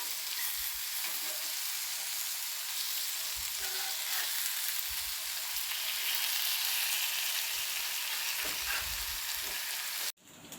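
Kodua fish frying in a pan with garlic, a loud continuous hiss and sizzle of hot oil with occasional low thumps from stirring, close and alone without talk, ending abruptly.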